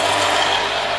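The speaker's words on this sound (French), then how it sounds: "Donc je vais remettre en route la pompe." A vacuum pump running on a SsangYong Rodius car air conditioning system under repair, a steady, loud mechanical whirring drone that continues throughout without pause.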